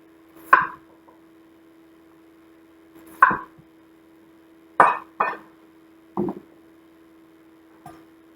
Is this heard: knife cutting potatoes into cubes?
yes